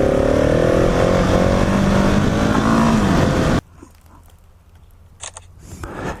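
A KTM 701 Supermoto motorcycle engine drones loud and close with rising revs while riding a nature trail, then cuts abruptly to a quiet idle, with faint sharp clicks near the end.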